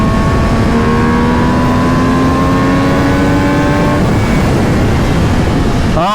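An MV Agusta Brutale Dragster 800 RR motorcycle accelerates hard, its engine note climbing steadily through the revs for about four seconds, very loud and close under heavy wind rush, then a quick shift and renewed pull.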